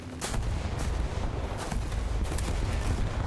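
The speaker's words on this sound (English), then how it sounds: "And now it explodes." Loud, continuous rumbling blasts and booming bomb explosions with sharp bursts in the video game War Thunder, dense and heavy throughout, no pauses.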